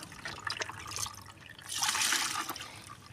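Banana-peel-soaked liquid fertilizer scooped and poured into a mug, making a soft close splashing and trickling sound that swells in the middle and then fades.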